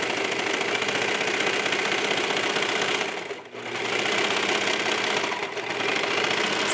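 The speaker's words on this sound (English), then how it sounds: "And we are stitching with right sides together right now." Sewing machine stitching fabric for a sports bra tank, right sides together, a steady close rapid mechanical whir that dips briefly mid-run before resuming, with no talk.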